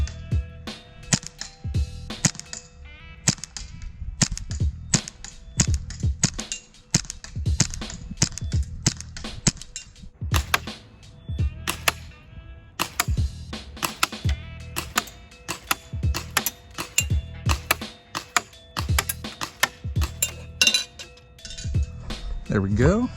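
An AAP-01 airsoft pistol fired on semi-auto at a target 50 feet away, giving a long run of sharp, irregularly spaced cracks and clicks, some in quick pairs, loud and close.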